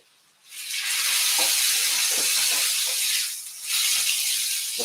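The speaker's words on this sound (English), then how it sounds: "we're going to lower our tomahawk in the pan now" A thick tomahawk steak lowered into a very hot pan bursts into loud, steady sizzling hiss that holds for several seconds with crackles, briefly dipping before surging again.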